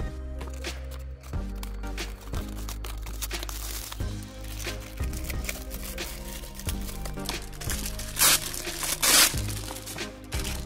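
Scissors cut into a Beyblade Burst Rage Longinus booster package, with crinkling plastic and repeated snips and rustles over about ten seconds, plus a couple of sharp louder crackles near the end.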